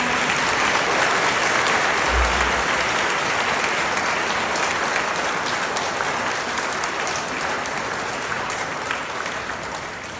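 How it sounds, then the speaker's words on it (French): Church congregation applauding two catechists at a Pentecost Sunday Mass, a dense, sustained wash of clapping that holds steady and tapers slightly toward the end. "j'aimerais vraiment que Annabelle et Lydie, les catéchètes, se lèvent afin qu'on puisse les applaudir pour leur travail"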